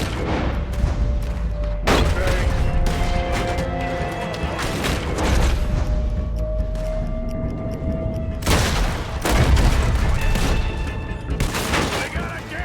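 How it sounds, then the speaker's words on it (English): Gatling gun fire in Red Dead Redemption 2 during the Lemoyne bank robbery, loud dense bursts of rapid gunshots and booms running throughout, with shouting voices and game music mixed in. "They got a Gatling gun! Stay down!"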